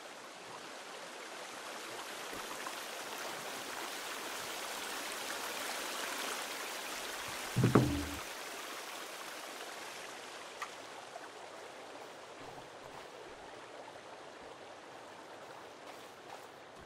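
River current in Sons of the Forest, a steady broadband rush of flowing water with one brief splashy thump near the middle, otherwise even and continuous.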